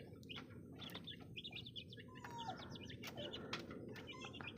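A mother hen with her newly hatched chicks: high, rapid peeping chirps repeat throughout, with a low clucking murmur underneath, fairly faint against a steady outdoor background.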